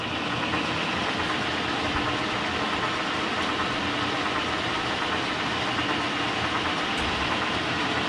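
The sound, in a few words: K&T milling machine running, pumping oil, spindle off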